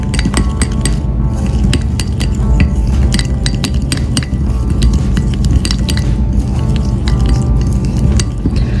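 A spoon clinks and scrapes steadily against a bowl while neem powder and olive oil are stirred into a face scrub, with rapid, repeated metallic taps close by and no talking.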